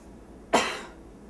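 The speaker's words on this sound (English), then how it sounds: "Sometimes it makes me cough when I spray this one for some reason too." A single short, close cough breaks the quiet, a sharp burst that fades quickly, set off by spraying a göt2b Schwarzkopf hair product.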